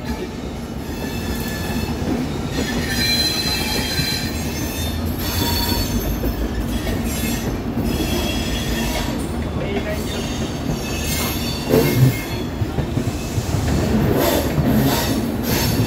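A Rajdhani express train runs along the rails toward Kalka, giving a loud continuous rumble with rhythmic wheel clatter and occasional metallic squeals, heard close from inside the moving train.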